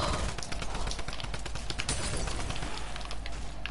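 Cannons firing in a video game battle, a dense, continuous barrage of loud, rapid blasts and gunfire with no pause and little talk.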